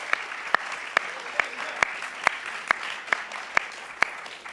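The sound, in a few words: audience applause at Volt Europa general assembly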